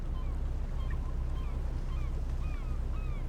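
Seagulls crying over water in the fishing game Fishing Planet, several thin drawn-out calls rising and falling at a distance above a constant low engine-like rumble.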